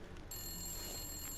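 A telephone ringing in the survival game The Long Dark, sounding as a thin, steady electronic tone that starts a moment in and holds unbroken, fairly faint over low background ambience.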